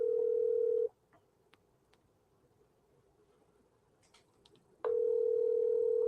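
A steady telephone dial tone, clear and close, stops after about a second, then comes a quiet stretch with faint clicks and taps, and then the tone comes back strongly.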